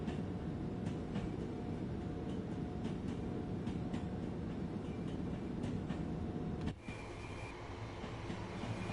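A 12-coach Class 377 electric train in the Train Sim World 2 video game running along the line, with a continuous rolling rumble and regular clicks of the wheels over rail joints, and a brief shift in tone near the end.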